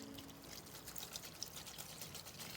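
Water running from a garden hose fed by a well, a faint, soft continuous trickling stream with small irregular splashes, quiet and close.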